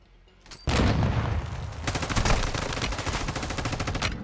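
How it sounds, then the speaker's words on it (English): A C4 charge detonates in Call of Duty: Modern Warfare 2 during a breaching sequence, a sudden loud blast followed by a sustained burst of rapid gunfire, close and intense. "Hold aim C4, throw, release. Double tap to detonate."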